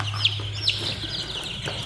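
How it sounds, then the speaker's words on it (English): Chickens in a coop on a heating plate, giving a few short, sharp clucks and squawks close by over a steady low hum from the heater. "Here are the chickens."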